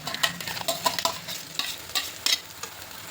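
Tomato and cashew paste for paneer masala is stirred and frying in a hot pan, with close, loud sizzling and repeated scraping strokes of a spoon.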